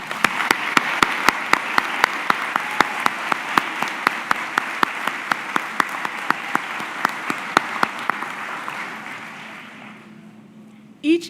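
A commencement audience at Montgomery County Community College applauds the faculty, with sustained crowd clapping and a few sharp, close claps standing out. It fades gradually toward the end, followed by a brief thump.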